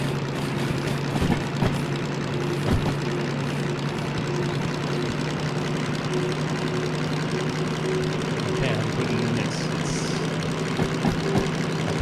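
A locomotive engine in the Derail Valley train game, a steady droning idle-like rumble with a constant low hum, held evenly for the whole stretch with no speech.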